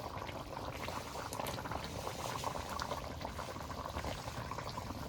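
Tilapia fish curry with potato and yardlong beans bubbling at a steady boil in a pot, a dense continuous burble of popping bubbles close up with no talk.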